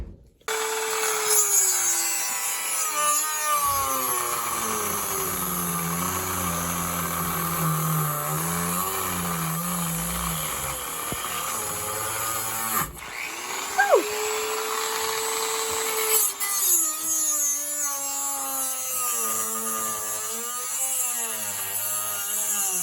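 A wooden pinewood derby truck bed being cut out with a saw: a steady, close mechanical whine with a wavering pitch that runs continuously, dipping and surging as the cut progresses.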